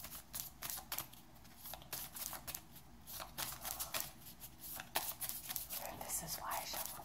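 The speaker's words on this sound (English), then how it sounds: "This is why I shuffle on screen." Tarot cards being shuffled by hand at close range, a quick run of crisp riffling and slapping bursts that come and go over soft background hiss.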